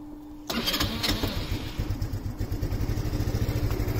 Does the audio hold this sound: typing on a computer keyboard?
no